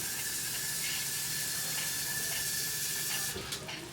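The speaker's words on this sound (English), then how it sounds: "Add about a half cup of water." Water runs steadily into a pot of chili for Frito pie, about half a cup, making a continuous close hiss and splash that eases off near the end.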